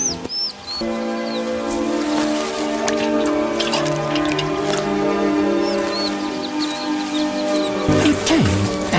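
Small trickles and drips of water dribbling from a stick used by monkeys to drink in the wild, soft patters set against a bed of steady birdsong and insect calls.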